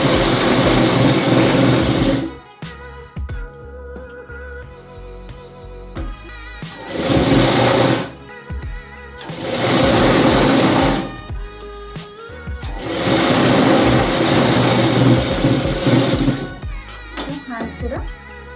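Sewing machine stitching a blouse strip in loud bursts of rapid whirring, four runs of a few seconds each with quieter pauses between, where a person talks and handles the fabric.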